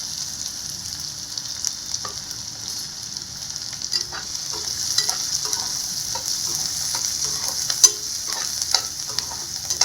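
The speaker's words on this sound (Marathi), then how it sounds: "थोडं जिरं टाकतोय, आणि बारीक चिरलेला कांदा, आणि लगेच हिरवी मिरची." Cumin, finely chopped onion and green chilli frying in hot oil for a tangy onion-tomato chutney: an even, hissing sizzle punctuated by spoon taps and stirring scrapes, close and steady.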